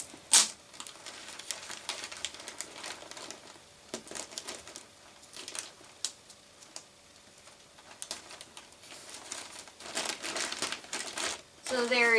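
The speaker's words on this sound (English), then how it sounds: "I'm going to tape them on either side." Black plastic trash bags crinkle while tape is torn and pressed onto a Halloween body-bag prop, making close, busy rustling with sharp ticks and tears throughout.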